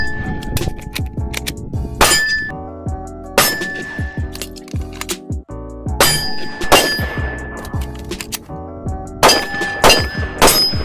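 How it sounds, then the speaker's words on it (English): A SIG P320 X-Carry pistol magazine is repeatedly pulled out and slammed back into the grip, giving sharp metallic clacks and clicks in irregular bursts, close and loud, with no speech. "pull it out like you normally would, and slam it home for my reload"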